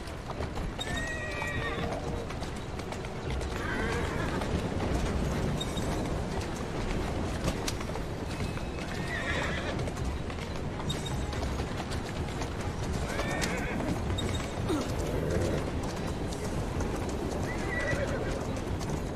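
Horses gallop with steady clip-clopping hooves and repeated whinnies during a horse-and-train race in Assassin's Creed Syndicate, the neighs rising over continuous game sound and background voices.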